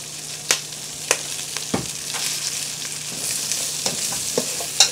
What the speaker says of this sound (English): This is how the sauce gets cooked down.